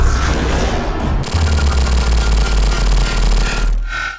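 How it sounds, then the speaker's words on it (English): A dense, harsh electronic sound effect from the Phantom Ruby in the Sonic Mania video game: rapid grinding, glitchy pulsing over a heavy low rumble, loud and continuous, ending with a brief high whine. "the sound effects coming from Infinite in that villain trailer and the Phantom Ruby are pretty much"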